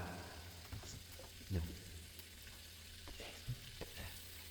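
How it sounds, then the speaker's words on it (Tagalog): Pork innards, including intestines, being sautéed in a pan for goto, giving a soft, steady sizzle with a few scattered utensil knocks, fairly faint and with no talking. "Ginigisa ko lang mabuti"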